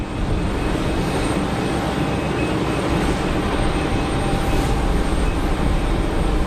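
An Emirates Boeing 777 airliner at Geneva Airport, a loud, steady, broadband jet roar that fills the air evenly for several seconds, heard from outdoors with no talk.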